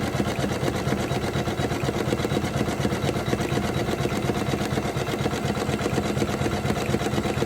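A Janome 500e embroidery machine stitches a satin tack-down outline for a Christmas tree ornament, giving a steady, fast, loud mechanical whirring and needle chatter that runs unbroken from start to end.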